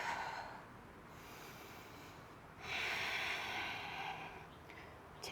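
Slow, soft breaths during a yoga side-plank stretch: a quiet inhale, a pause, then a longer, louder exhale and a sharp sniff at the end.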